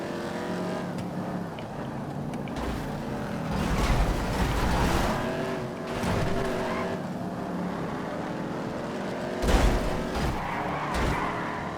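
A Chevrolet Camaro stock car races in GTA 5, with continuous engine roar, swelling revs and tire noise from other cars close by.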